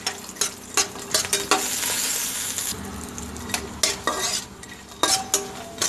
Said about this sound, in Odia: ତେଲ ଗରମ ହେଲେ ବଡ଼ିଟା ଭାଜି ନେବା।